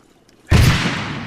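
A single sharp gunshot blast in the military shooter game Arma 3 cracks suddenly after a quiet lead-in and then decays into a rumbling tail.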